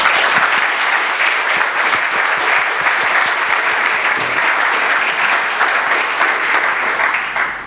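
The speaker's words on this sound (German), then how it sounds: "begrüßen Sie bitte unser Panel mit einem herzlichen Applaus" Sustained applause from a seated audience greeting a discussion panel at a German public event on open archives, steady and dense clapping throughout, tapering slightly at the very end.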